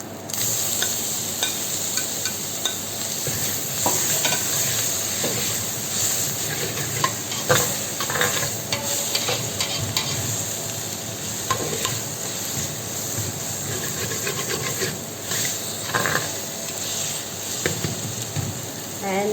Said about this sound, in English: Lightly brown, so now I'm adding the tomatoes.